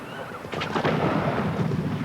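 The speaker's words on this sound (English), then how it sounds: "The mixture of chemicals in fireworks varies depending on whether they shoot into the air or burn brightly" Fireworks going off at a display: a deep boom around the half-second mark with crackling bursts that follow and a lingering rumble, fairly faint and distant, with no speech.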